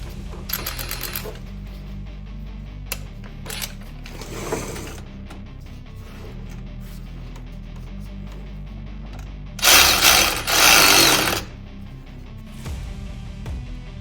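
Ratchet clicks come in several bursts as water pump bolts are tightened on a 2000 Ford F350, close and crisp over a low steady hum, with a longer, louder run of ratcheting late in the sequence.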